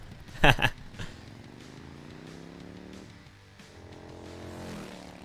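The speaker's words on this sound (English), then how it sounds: "Motorcycles do have a great sound to them." A motorcycle engine in the game Cyberpunk 2077 revs up in two rising sweeps after a couple of sharp knocks, with a low steady rumble underneath.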